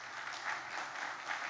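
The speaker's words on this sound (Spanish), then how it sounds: "Dele un fuerte aplauso al Señor esta mañana." A church congregation claps for the Lord during a morning service: a dense, steady wash of many hands applauding at an even level, with no voices over it.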